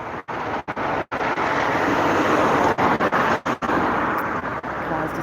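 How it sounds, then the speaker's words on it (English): Road traffic streams past nearby in a continuous loud roar of cars and larger vehicles, broken by several abrupt brief dropouts in the sound. "Let's wait for the traffic."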